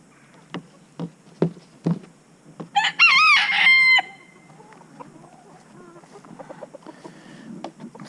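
Chickens give a few scattered clucks before a rooster lets out one loud, close crow, followed by quieter background clucking in a backyard coop.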